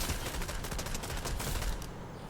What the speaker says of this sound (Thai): ก็เลยจำเป็นจะต้องยิงนะคะ